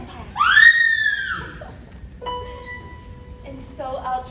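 A woman lets out a single loud, rising-then-falling scream near the start, followed by quieter tonal sounds and faint background noise.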